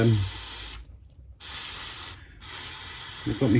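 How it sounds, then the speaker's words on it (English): Brake cleaner sprayed onto the front brake of a Honda Jazz to wash off brake dust, heard as two loud hissing aerosol bursts separated by short pauses, close up. "I'll just give it a spray with some brake cleaner just to wash away the brake dust"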